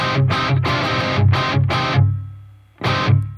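Distorted electric guitar plays a short rhythmic riff of chunky muted chords, then a pause and a final ringing chord, loud and up close.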